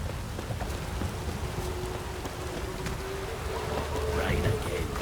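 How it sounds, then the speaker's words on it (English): Rain falls steadily in The Witcher 3: Wild Hunt, a constant hiss of drops on surfaces with a faint low rumble underneath, even and moderately quiet throughout. "Rain again."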